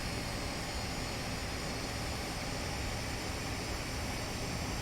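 Steady broadband roar of jet engines spooling up for a takeoff roll in a Prepar3D flight simulator, played from a home cockpit setup, continuous and even throughout with no talk over it.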